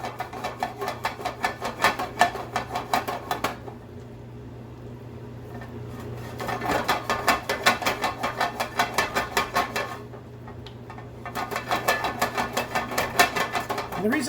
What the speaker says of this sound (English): the reason I shake the pan is because if I'm stirring over here and there's butter there, it's not moving